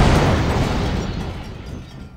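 A loud explosion in a video game, a dense broadband boom that bursts at once and then slowly decays into a rumbling tail over about two seconds, with no voices.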